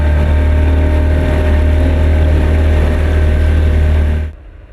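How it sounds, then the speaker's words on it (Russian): Two small boats pull in to a riverbank near a train-crash site at Kerki station, a loud steady outboard motor drone running close by, then the engine cuts off abruptly near the end, leaving faint ambient noise. "После получасового ожидания к берегу причалили две лодки."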